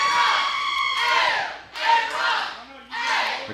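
Crowd at an independent wrestling event cheering for champion Aaron Dallas, bursts of shouting and whooping in surges with pauses between, fairly close and loud.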